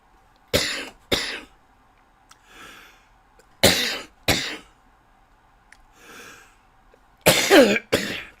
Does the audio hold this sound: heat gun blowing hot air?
no